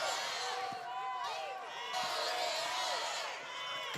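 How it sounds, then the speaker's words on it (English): Crowd cheering and shouting fills a women's wheelchair basketball semifinal between UTA and Illinois, a steady roar of voices with whistle-like calls and sharp court thuds running throughout. "You see this crowd is really trying to cheer on this Illinois team to try to break into this 14-point lead"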